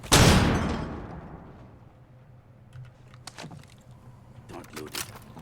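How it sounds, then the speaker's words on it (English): A flashbang grenade detonates in a video game: one loud, sharp blast that rings and decays over about two seconds, followed by scattered clicks and faint game sounds, with players talking. "Flashbang out."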